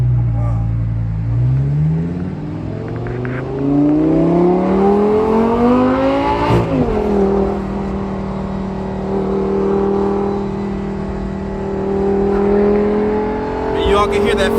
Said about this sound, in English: Y'all can hear that famous V10 sound.